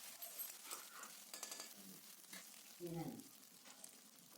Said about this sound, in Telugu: ఈ అల్లం వెల్లుల్లి పేస్ట్ కొద్దిగా పచ్చివాసన పోయే వరకు వేయించుకొని